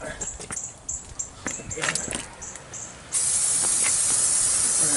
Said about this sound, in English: Make sure you hose off that caliper too, back and front and back, top and bottom, the whole thing.